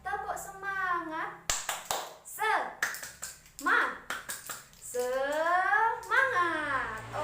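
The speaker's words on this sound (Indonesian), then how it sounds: "Tepuk semangat." Classroom schoolchildren doing a rhythmic spirit clap, sharp patterned bursts of hand claps in a set beat alternating with children's voices chanting and singing together, loud and close.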